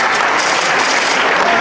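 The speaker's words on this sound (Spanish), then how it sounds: "Pero más fuerte ese aplauso, que se escuche muy muy fuerte" Steady, loud crowd applause fills an event hall in Acapulco as an audience of parents claps continuously and densely throughout, with no voices standing out.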